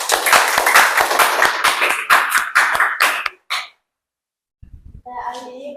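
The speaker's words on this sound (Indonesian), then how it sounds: "Tepuk tangan dulu." A classroom group claps after a student presentation, sharp crisp claps in a fast, fairly even rhythm that stop abruptly, followed by a short silence and then a voice speaking.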